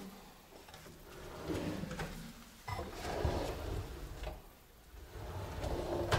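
Kitchen drawers with concealed Blum roller runners sliding open and shut in a fitted kitchen, several soft rolling glides with light knocks, close and fairly quiet.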